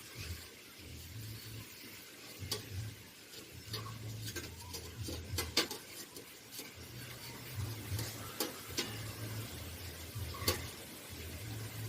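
A peeled raw banana is sliced thin on a vegetable slicer in a village kitchen for banana bajji. Faint, repeated scraping strokes come with light clicks in an uneven rhythm over a low background hum, and no one speaks.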